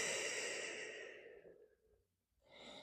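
A slow, deep exhale through the body during a gentle yoga flow, a long breathy sigh that fades over about two seconds, then a short fresh intake of breath at the end, close and quiet.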